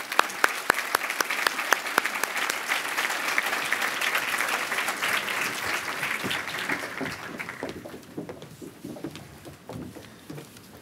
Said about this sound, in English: Please join me in giving a round of applause to our first group of nominees.